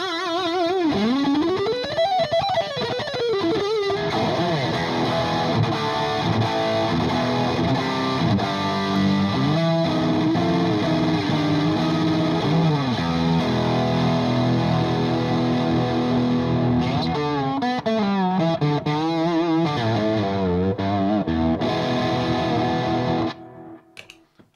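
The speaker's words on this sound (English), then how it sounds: "here is the reference tone from my Fender Yngwie Malmsteen Overdrive" Electric guitar through a Fender Yngwie Malmsteen Overdrive pedal into a slightly dirty amp, a loud, continuous overdriven lead line with bends, vibrato and fast runs, held steady throughout before cutting off abruptly near the end, no talking.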